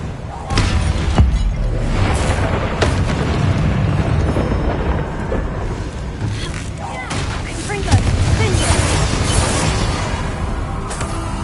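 Repeated Confringo blasting-spell explosions from the Hogwarts Legacy video game, loud booming bursts landing one after another over dense, continuous battle noise.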